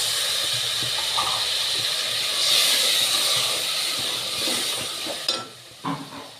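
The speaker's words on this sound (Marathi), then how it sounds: "मसाल्याचंच पाणी आहे यामध्ये ॲड करत आहे" Masala water poured into a hot pan while cooking an aloo vadi and spinach curry, giving a loud, sustained hiss that swells midway, then fades as a few utensil clinks follow near the end.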